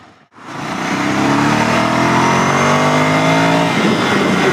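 A 2015 Ducati Scrambler motorcycle engine, roughly 75 horsepower, revs up hard from a stop while riding, climbing steadily and loud and close before the throttle eases near the end.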